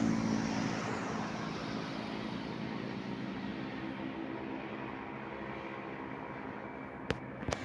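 Road traffic on a highway in Ordoneta, Pangasinan: a broad, steady roar of passing vehicles that slowly fades over several seconds, ending with a couple of sharp knocks close by.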